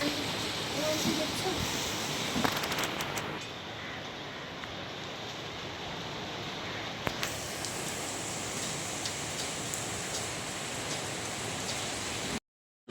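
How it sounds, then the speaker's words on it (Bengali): Steady rain falls on outdoor surfaces, a dense even hiss of drops that holds through the whole stretch, louder at first and then slightly softer, with a brief dull moment near the end before it cuts off. "ফাইনালি বৃষ্টি হচ্ছে"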